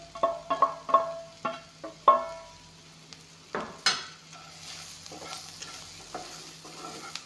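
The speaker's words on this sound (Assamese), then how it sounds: "এয়া চাওক, বিন আৰু তেজপাত ভাজিখিনি দি দিছোঁ" Green beans and bay leaves are tossed in a frying pan: a run of sharp spatula taps and scrapes against the metal, then a longer scrape and softer stirring over a low, continuous sizzle.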